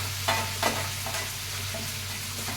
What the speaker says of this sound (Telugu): ఇప్పుడు వేగిపోతుంది